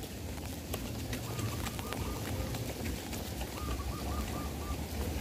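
A zebra dove (perkutut) coos faintly in soft repeated phrases, heard at a distance behind a steady wash of outdoor background noise.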